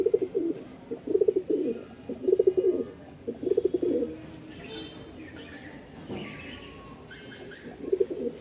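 Giribaz pigeons coo at a market in Mirpur, Dhaka, in repeated bursts of low throaty coos, close and fairly loud, with faint chirps and background noise between the bursts.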